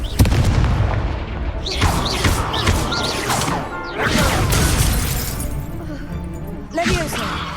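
Confringo blasting spell explosions during combat in the Hogwarts Legacy video game: loud booming blasts and crashing impacts burst repeatedly over dense battle noise, with several heavy hits spread through the stretch.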